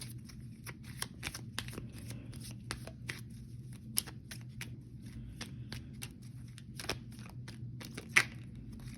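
An oracle card deck being shuffled and a card drawn, a close run of quick papery flicks and riffles with a sharper snap near the end, quiet with no talking.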